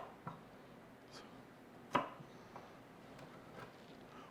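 A knife chops carrots into 1-inch pieces on a cutting board, making a few quiet, sharp taps at irregular intervals, one of them clearly louder, against a soft background hush.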